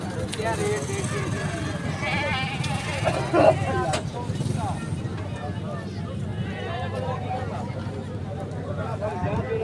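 Goats and sheep bleat amid the crowded bustle of a livestock market, with voices talking throughout, hoof clatter and general babble; the calls are mid-distance and partly masked by the noise.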